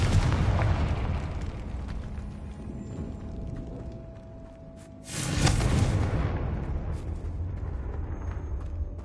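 A Confringo spell in Hogwarts Legacy bursts into a loud, sudden explosion midway through, followed by a long rumbling decay, over a steady background of game ambience.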